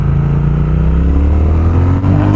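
A Triumph Speed Twin motorcycle's twin-cylinder engine pulls hard under acceleration, a loud, close, steady rising drone with no talk over it.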